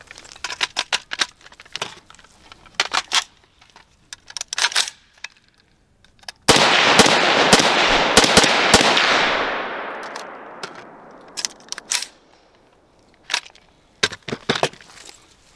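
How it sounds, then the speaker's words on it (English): Rifle fired rapidly at a target after quick assembly with a rapid-attach buttstock adapter, sharp close shots in irregular bursts with a long loud stretch of dense reports midway, then more spaced cracks. "grab the rifle, assemble it fast as I can, and get hits on target."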